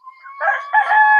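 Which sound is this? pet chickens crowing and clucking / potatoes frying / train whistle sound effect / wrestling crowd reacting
pet chickens crowing and clucking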